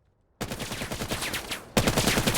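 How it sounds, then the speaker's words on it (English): Rapid gunfire exchange in a video game, a sharp burst starting abruptly and rattling on in quick repeated shots, loud and close, then a second heavier burst joining near the end. "Trading bullets with Legil."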